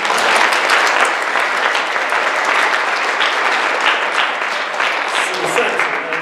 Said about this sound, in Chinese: 就要大声的拍掌